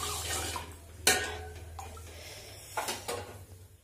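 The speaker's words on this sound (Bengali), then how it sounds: "এখন কুকার লাগবে, সেই জন্য কুকার খালি করে নিলাম।" Food is emptied from a pressure cooker into a bowl in a home kitchen, with two sharp metallic clanks and a few softer scrapes and knocks of cookware over a low steady hum.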